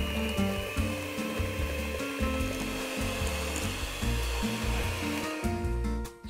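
Electric mixer whisking a cream filling for homemade éclairs, a steady close motor whir with shifting pitch as the beaters churn, running continuously and cutting off near the end, no voices.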